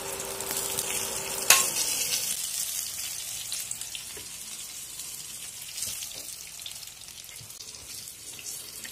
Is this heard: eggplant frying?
yes